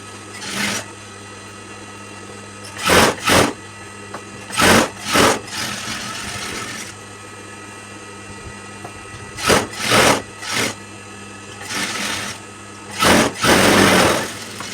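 A sewing machine stitches the neckline of a churidar in short bursts of fast, rattling motor whir, about a dozen runs with quiet pauses between, close and fairly loud, with no speech.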